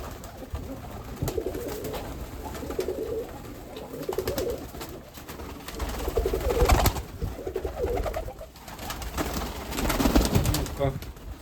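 Mykolaiv pigeons cooing in a pigeon loft, repeated soft low coos and wing rustles close by, with someone talking intermittently over them.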